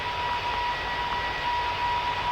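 Airbus A340 jet engines in the Roblox flight game PTFS give a continuous, even roar with a thin steady whine on top, droning without change during a steep turn.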